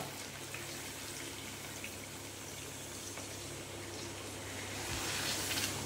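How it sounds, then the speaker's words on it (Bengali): Water poured into a pan of chicken curry being cooked, a steady close hiss and splashing stream running continuously and swelling slightly toward the end, with no talking. "এবারে দিয়ে দেবো জল"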